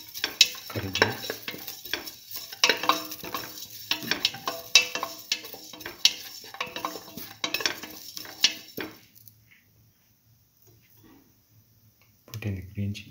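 Curry leaves sautéing in a pan with a clattering utensil stirring and scraping through the first nine seconds, light sizzle underneath, then near quiet before a brief burst of stirring returns at the end.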